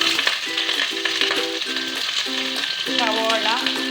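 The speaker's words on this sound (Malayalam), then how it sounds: "കടായിലേക്ക് നമ്മൾ സവോള ഇട്ട് കൊടുക്കണം" Onions sizzle and fry in a hot kadai while preparing kadala curry, a continuous crackling hiss at moderate loudness. Background music with melodic notes plays over the frying.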